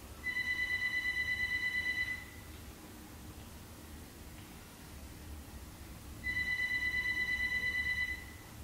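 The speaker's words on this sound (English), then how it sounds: "I'm sorry if y'all can hear the house phone ringing." A house phone rings indoors in two electronic trilling bursts, each about two seconds long and separated by a pause of about four seconds, moderately loud over a quiet room.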